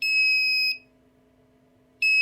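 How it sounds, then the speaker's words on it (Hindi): Piezo buzzer on an Arduino IR-sensor motion alarm emits a loud, steady electronic beep, cuts off, then starts again near the end, over a quiet low hum. "देखिए हमारा बजर भी बीप कर रहा है"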